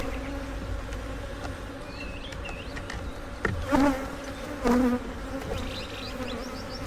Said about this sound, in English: These bees ain't happy.